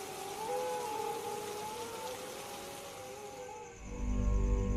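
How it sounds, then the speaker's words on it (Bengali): Heavy cartoon rain falls outside as a steady hiss beneath gliding whistle-like tones, and a low rumbling swell rises toward the end. "বাইরে এত বৃষ্টি হচ্ছে"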